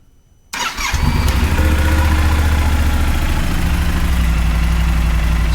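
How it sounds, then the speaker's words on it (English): After a brief quiet moment, a Yamaha Super Tenere 1200 two-cylinder motorcycle engine cranks and catches, then settles into a loud, close, throbbing idle with a steady, lumpy pulse. "So what does the Yamaha Super Tenere 1200 sound like?"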